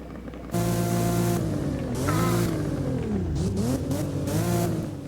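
A Nissan Skyline twin-turbo engine in a racing game revs loud and close, its pitch climbing and dipping through gear changes, with no talking.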